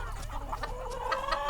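A chicken clucks close by in a backyard plot, a quick series of short throaty clucks over a low background hum, with no talking.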